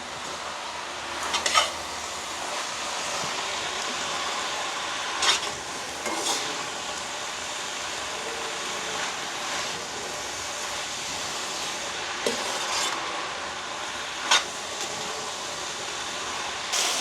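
Rice noodles with curry leaves are stirred in a pan, a soft steady sizzle broken by occasional scraping clicks of the spoon against the metal, close and without voices.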